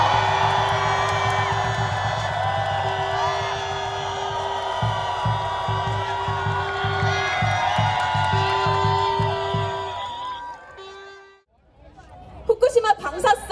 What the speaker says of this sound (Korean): 우리의 간절한 영혼으로 다시 한번 여러분의 뜨거운 함성을 부탁드립니다